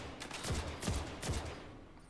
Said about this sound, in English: Submachine gun at this range.